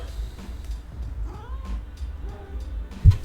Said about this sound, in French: Le chat il me saoule.